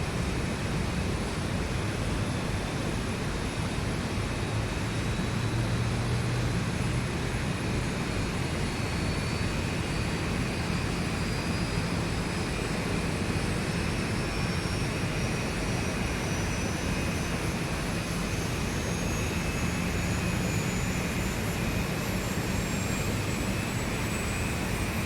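Engine number 1 of a jet airliner spooling up during start in X-Plane 11, heard as a steady, loud roar with a thin whine that climbs slowly in pitch throughout, with no talking.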